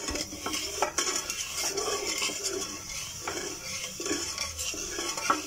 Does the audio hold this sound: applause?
no